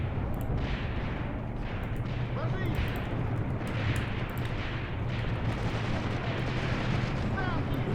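Tank fire and explosions boom in an Eastern Front war video game, heavy distant blasts and rumbling impacts over a constant low battle roar, with a voice talking over the combat.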